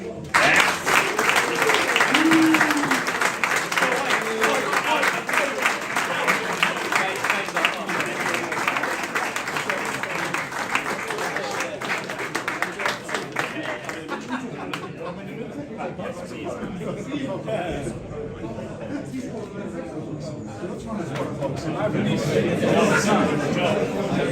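Sustained applause from an awards-night audience for a football club award winner, dense steady clapping filling the room for over twenty seconds, easing slightly midway before swelling again toward the end.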